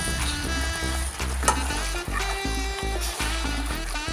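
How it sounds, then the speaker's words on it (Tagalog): String beans are sautéed for chicken adobo, a close, steady frying sizzle with stirring clatter, accompanied by a persistent tonal hum. "Gisa-gisa muna natin."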